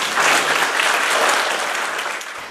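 Audience applause at a celebration for elderly residents in Marcali, Hungary, before an operetta performance: a dense, steady clapping from a crowd that fades slightly toward the end, with no voices.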